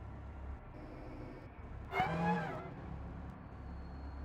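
A Ford Sierra Cosworth roars briefly through a sharp rising rev in Gran Turismo 7 around the Nürburgring GP, a half-second burst over quiet background hum.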